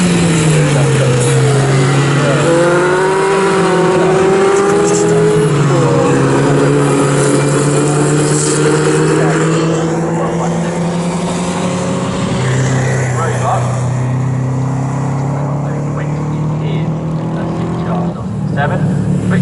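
Historic 750 Formula race cars racing at Snetterton circuit, loud buzzing engines rising and falling as they pass and shift, with a commentator talking over the continuous racket.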